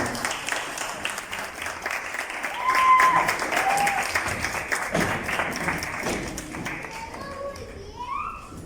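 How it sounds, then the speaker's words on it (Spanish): An audience at an artisan fashion runway with a ballet group gives scattered, fairly soft applause, sparse taps under a murmur of voices and children, swelling briefly midway. "Un fuerte aplauso para recibirlo"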